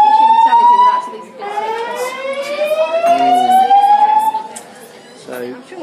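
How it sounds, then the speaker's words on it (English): The fire alarm aboard the Queen Mary sounds in loud, sweeping electronic tones that rise and repeat, close by, while people talk over it. "they shouldn't be telling people to get back on if the alarms are still going off"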